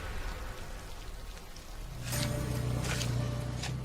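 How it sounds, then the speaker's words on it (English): Rain falling steadily on a waterlogged garden in the early morning, a soft, even hiss of drops that thickens slightly partway through, with no voices. "It's early morning and the rain-lashed garden is a sorry sight."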